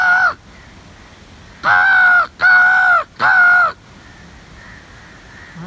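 Comedian Yubaraj Bhandari, calling crows to the trees overhead, voices a loud imitation caw, pauses, then gives three more long, strong caws in a steady rhythm before the air falls quiet.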